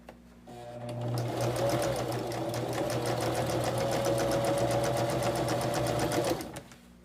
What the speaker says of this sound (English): take it to the machine, and stitch